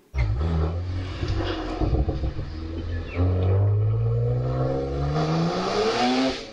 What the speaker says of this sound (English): They drove around me to leave.